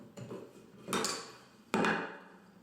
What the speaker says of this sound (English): I'm just grabbing a chisel and I'm going to just pare it away